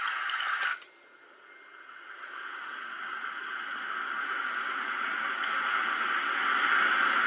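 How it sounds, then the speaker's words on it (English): A brief click, then a steady, even hiss of falling rain that swells gently and continues without pause. "I think that's rain."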